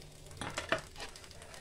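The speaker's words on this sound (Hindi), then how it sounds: "अब इस पर तवा रखेंगे, इसमें थोड़ा सा ऑयल डालेंगे।" Oil on a hot tawa gives off a soft, close sizzle, with a few brief crackling bursts rising and fading over a faint, steady hiss.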